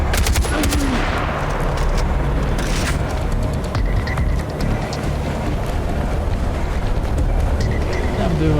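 Dense, continuous automatic gunfire and rapid shots from a first-person shooter video game, loud and sustained throughout.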